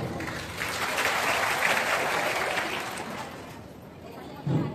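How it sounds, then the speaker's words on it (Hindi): A crowd at a public gathering applauds to welcome guests, steady dense clapping rising and then thinning out over several seconds, with faint murmuring beneath. "तो कम से कम यही तो ताली से गड़गड़ाहट कर सकते हैं"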